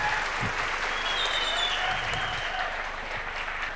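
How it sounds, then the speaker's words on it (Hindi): Seated audience at a direct selling and network marketing seminar applauds together, a thick, continuous wash of clapping that holds steady and loud throughout, with a faint voice briefly audible beneath it. "आप अपने लिए जरूर तालियां बजाएं"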